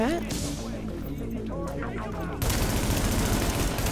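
Gunfire in the video game Tom Clancy's The Division: sustained loud automatic fire close up, joined by a rising tonal sound early on, then a harsher, denser burst of shooting near the end.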